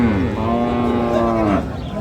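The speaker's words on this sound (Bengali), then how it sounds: "গাভী বাছুর" A cow with calf gives a long, loud, drawn-out moo close by at a cattle market, lasting over a second and a half, with no talking.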